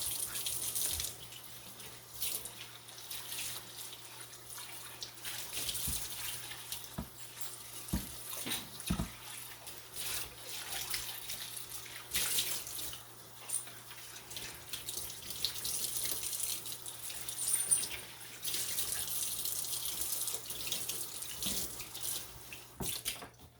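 Water runs steadily from a tap as a soda can is rinsed out, a continuous hissing splash with a few knocks and clunks of the can against the sink.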